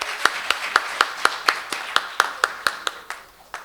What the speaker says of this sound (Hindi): एक बार जोरदार तालियां बजाइए।